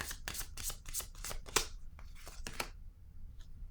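Tarot cards riffled and flicked in a rapid series of crisp, papery snaps for almost two seconds, then a few slower single cards laid down, close and fairly quiet with no talking.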